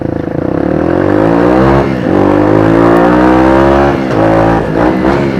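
A motorcycle accelerating hard up through the revs for a rolling stoppie, its engine loud and close, rising in pitch with short dips at gear changes.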